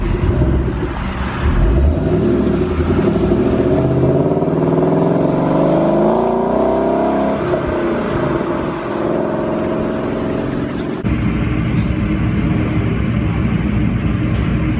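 A Ford Mustang pulls away with a steady engine rumble that rises in pitch as it accelerates, a loud, continuous drone that fades slightly near the end.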